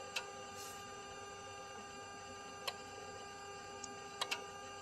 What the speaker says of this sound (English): I hope you guys are hearing that little click.